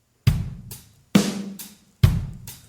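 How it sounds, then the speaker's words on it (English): A basic drum beat of kick, snare and hi-hat, with three loud punchy hits about a second apart, each followed by a lighter cymbal tick, played alone and close. "when you start out in podcasting or learning to play the drums, it kind of sounds like this at the beginning"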